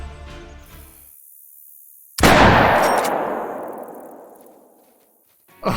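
A 10 gauge shotgun blasts once at a wild turkey gobbler in the hunting game Call of the Wild, a loud sharp report with a long rolling echo that fades over several seconds, preceded by quiet ambience.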